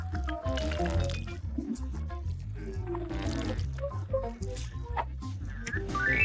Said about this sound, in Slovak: Nalievam med do pohára.